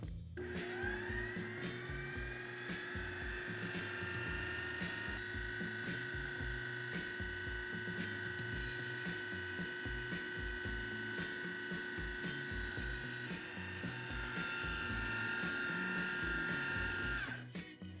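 A food processor blends chickpeas and olive oil into hummus, its motor holding a steady, high-pitched whine for a long continuous stretch before cutting off at the end.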